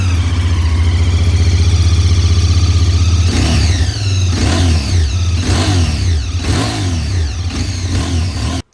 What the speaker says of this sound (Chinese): 而追550音量更大，并带有哨声。